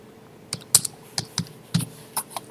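A computer keyboard being typed on, entering a bank branch code for an SBI account transfer, with about a dozen close, crisp key clicks in an irregular rhythm and no talking.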